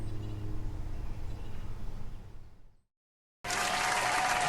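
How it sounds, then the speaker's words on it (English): Steady roar of crowd clapping in the video game The Stanley Parable, fading out into silence, then a sudden loud burst of applause returns. "Hold your applause."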